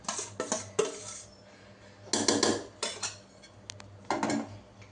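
Metal pot and utensils clattering while chicken biryani gravy is added, sharp scattered clinks and scrapes in several clustered bursts with quiet pauses between, close and fairly loud, no talk.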